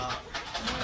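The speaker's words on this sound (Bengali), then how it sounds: "দুইটাই পায়রা।" Pigeons coo softly at close range in a village house, a brief run of low, throaty calls that are fairly faint.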